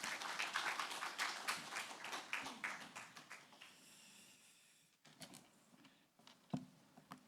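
A church congregation at a Sunday worship service applauds as the pastor comes forward, a fairly faint spatter of claps that thins and fades out, leaving a few scattered knocks and rustles.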